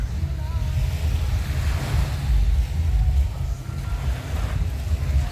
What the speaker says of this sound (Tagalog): Pakinggan yung water